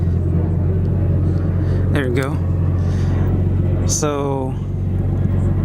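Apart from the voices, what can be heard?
Nissan R32 Skyline engine starting and idling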